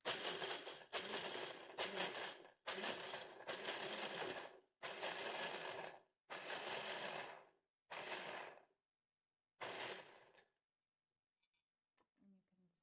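An electric blender crushes garlic and pine nuts for pesto in loud, repeated bursts of several seconds each, separated by short pauses, then stops to near silence with faint handling sounds.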